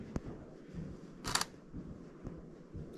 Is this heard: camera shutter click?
yes